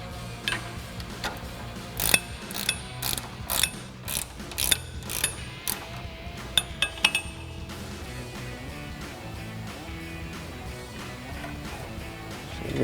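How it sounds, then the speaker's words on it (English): A 17 mm ratcheting wrench clicks in quick, close bursts while backing the nut off a sway bar end link during an ICON suspension lift install. The rhythmic ratcheting strokes fade into softer mechanical handling. "we're going to grab a 17 mil ratcheting wrench, remove the nut from this side"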